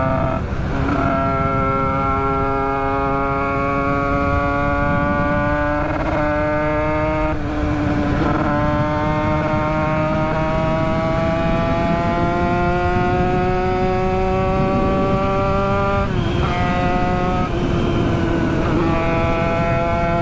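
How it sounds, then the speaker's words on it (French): A Toyota GT86 sports car engine drones loudly and continuously while driving, its pitch climbing slowly through gears with brief dips at shifts. "Je vous laisse quand même sur son petit bruit de moteur qui est plutôt sympathique."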